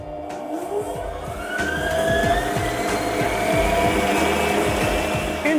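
A stand mixer motor creaming sugar into soft butter, whirring up steadily to speed and holding a loud, even drone with a rhythmic churning pulse from the beater, no talking.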